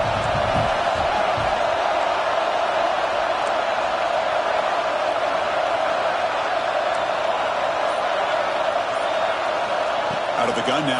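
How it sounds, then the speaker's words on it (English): A stadium crowd in a Madden football video game roars steadily on a third-down play, a dense, continuous wash of cheering that holds at an even level throughout. "Third down, and the crowd really getting into it."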